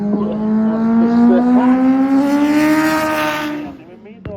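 Drag race car finally getting rolling after a troubled launch, its engine note climbing steadily in pitch as it pulls away, loud and close, then dropping off abruptly at the end.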